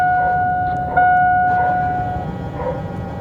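Blower fan of a full-size GM truck running on high in accessory mode, a steady rushing hum with a tonal whine and a small bump in level partway through.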